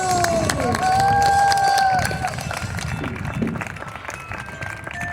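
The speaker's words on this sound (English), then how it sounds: "Let's have a big round of applause for the kids of New York Mills" Loud crowd applause and cheering at the 2023 Kalevala Puppet Pageant in New York Mills, steady clapping with whoops and a whistle-like tone early, easing slightly toward the end.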